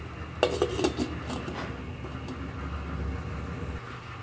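Metal lid set back onto a cooking pot of chicken tinola with vegetables, a few clinks and clatters near the start, then a steady low simmering rumble underneath.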